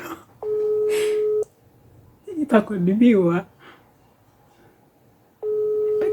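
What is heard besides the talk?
telephone ringing tone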